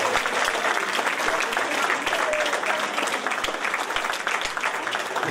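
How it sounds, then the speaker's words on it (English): Audience applause fills a room at a city event in Revere, a dense, steady clapping with faint crowd murmur underneath, continuing for several seconds. "I think they deserve a great round of applause"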